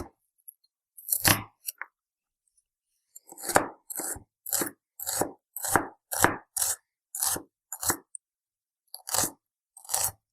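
A shallot being chopped on a cutting board for a Liège-style meatball sauce. Crisp knife strikes land in an irregular run of about a dozen close, loud chops with short pauses between them.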